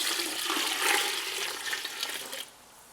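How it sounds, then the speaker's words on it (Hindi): Water pours into a cooking pot of masoor dal (red lentils) with tomatoes, onions and spices, a close splashing rush lasting a couple of seconds before tapering off, with no talk. "और जो पानी है वो ऐड कर लें।"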